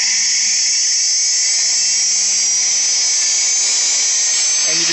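An electric motor on a homemade soft start spins up slowly, a loud, steady high whine with a faint low tone rising gradually underneath, heard alone throughout.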